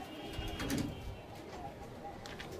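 Malbai pigeons coo in a loft, with a low throaty burst near the start and softer murmurs and chirps continuing at moderate distance.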